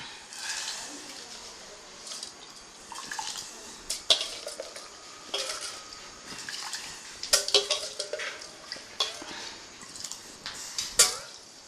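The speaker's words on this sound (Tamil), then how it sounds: "நம்ம களைஞ்சி வச்சுருக்கிற அரிசியை இதில் போடுறேன்." Washed raw rice poured into a pot of boiling water while cooking mango rice: scattered clinks of metal vessels and spoon, wet stirring and soft splashes, fairly quiet and close, in irregular bursts.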